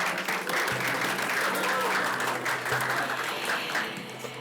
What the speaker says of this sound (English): So how about a big round of applause for all of you?